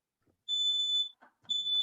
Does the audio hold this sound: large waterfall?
no